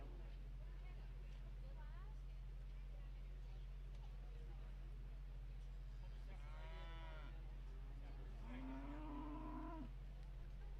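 Cattle at a county fair show moo a few times, drawn-out and fairly distinct, over a constant electrical hum and a murmuring crowd.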